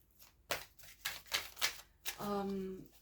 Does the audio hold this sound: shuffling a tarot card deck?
yes